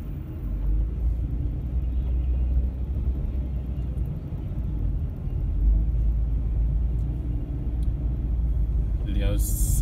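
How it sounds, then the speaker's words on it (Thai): Congested Friday traffic in Las Vegas produces a continuous low engine and road rumble that swells and eases gently, with someone talking over it throughout. "ที่ลาสเวกัสนะฮะรถติดมากเลยนะวันนี้วันศุกร์นะครับ"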